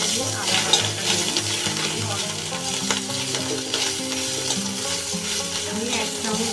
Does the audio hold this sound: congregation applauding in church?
no